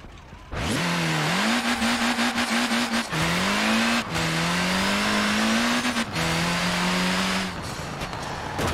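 A Reliant three-wheeler in Forza Horizon 4 revs hard and loud through several upshifts, its engine note climbing, dropping and climbing again, close up and with no voices.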